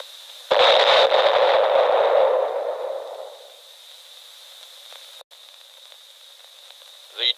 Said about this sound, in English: unit commanders may call in artillery or high-angle weapons to demolish tunnel